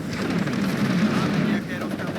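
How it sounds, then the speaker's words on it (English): Artillery fire in the Cold War strategy game WARNO rumbles as dense, overlapping booms and crackling bursts over a short stretch, loud and continuous, with a voice talking over it. "This is gonna get hit with the artillery any second now"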